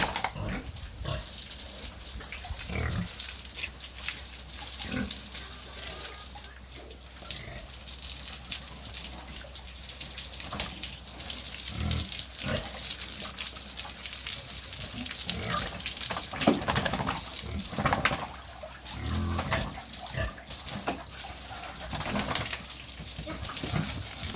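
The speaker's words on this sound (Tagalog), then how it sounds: "Ayan, lakas pa rin po ng pressure natin tubig po." Water gushes strongly from a tap at a backyard pig farm, a steady close hiss running throughout, broken by grunts and squeals from pigs nearby.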